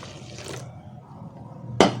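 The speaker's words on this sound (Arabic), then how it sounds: "انا هحط بقى الميه دي ميه بتغلي" Boiling water poured from a kettle or pot into a container while mixing a homemade laundry stain remover, a soft running liquid splash at first, then a brief louder gush near the end.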